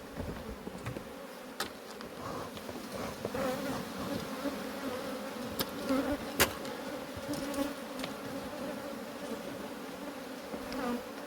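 Honey bees drone and buzz continuously in an open hive box during an inspection of Aloe colonies, close and steady with a few sharp knocks and clicks mixed in.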